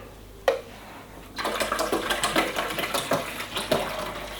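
Water pours steadily into the reservoir of a Duchess CM3000B coffee maker after a sharp click of the lid, a splashing, gurgling stream lasting several seconds without talk.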